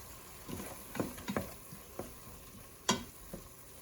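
Mushrooms cook slowly over medium heat in a pan for chicken fettuccine Alfredo, a faint soft sizzle under several scattered scrapes and clicks of stirring, with one sharper knock, and no talk.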